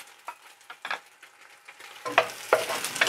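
Finely chopped garlic frying in a pan with eggs for pineapple fried rice. A soft steady sizzle runs under occasional scrapes and stirs, growing louder and brighter toward the end.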